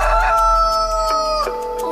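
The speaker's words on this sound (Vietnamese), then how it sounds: "Mới 5 giờ sáng anh gà đã gáy rồi hả?" A cartoon rooster crows loudly in one sustained, close call at dawn, layered over soft background music with no talking.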